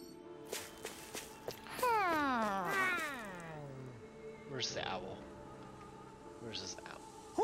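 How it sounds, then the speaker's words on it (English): A cat meows in the video game Tales of Arise, a long drawn-out wavering meow followed by two shorter mews, close and moderately loud over faint footsteps and a soft game background. "There's a kitty cat."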